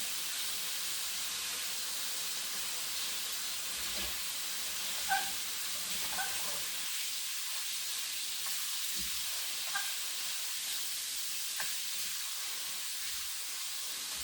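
Tofu fries in oil in a pan for a bok choy stir fry, giving a steady soft sizzle and hiss with a few faint clicks and taps from the pan, fairly quiet and with no talking.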